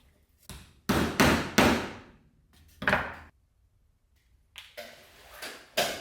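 A small hammer taps a carburetor part of a 1974 Ford F100 several times in short bursts, a few quick strikes close together, then a pause and a couple more knocks.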